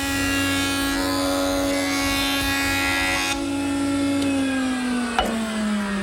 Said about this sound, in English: and clean it up at the joiner.